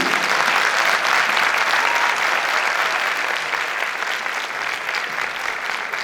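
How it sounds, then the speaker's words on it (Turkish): Audience at a televised Turkish folk music program applauding a singer, a full, steady burst of clapping that gradually eases in loudness toward the end. "Öncelikle güzel alkışlarınız sevgili Ayfer Gülsoy için"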